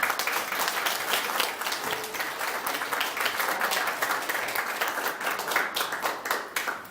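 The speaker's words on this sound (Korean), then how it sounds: "큰 박수 부탁드립니다" At a Korean policy forum, the audience applauds a guest speaker being introduced, a full, continuous round of clapping lasting several seconds and heard from within the room.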